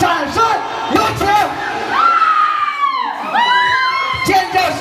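A crowd at a birthday party in Litang cheers and screams with shrill rising whoops and shouts, loud and near, swelling in repeated waves.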